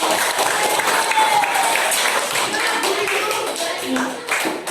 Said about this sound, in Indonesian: bagus untuk kelompok 2, silakan diberi aplaus